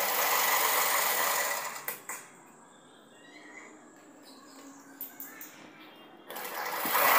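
A machine stitching embroidery with coloured thread rattles rapidly at the start, stops for a few seconds of near quiet broken by small clicks, then starts up again.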